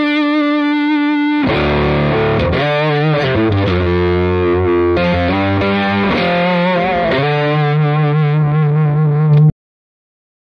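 A Cardinal Instruments Magpie electric guitar, with both Supro-style pickups on and set out of phase on some strings for a nasal tone, plays a loud, thick fuzz riff with sustained, bending notes and then stops abruptly.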